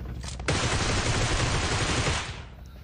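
Bots fire guns in the PUBG battle royale video game, a sustained burst of rapid gunfire lasting about two seconds before trailing off, loud and close with no talk over it.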